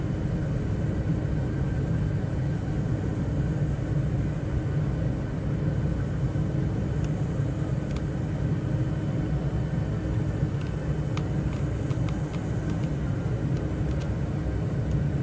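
A light aircraft in a flight simulator game comes in fast on final approach to land on a long runway, its engine a steady, unbroken droning rumble with faint clicks over it.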